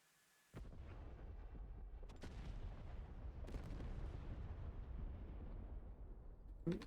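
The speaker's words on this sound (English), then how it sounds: "These are big bombs" Big bombs exploding in the DCS flight simulator game: a sudden deep blast followed by a long, heavy rumbling roar with a few sharper crackling bursts, loud and sustained before a final pop near the end.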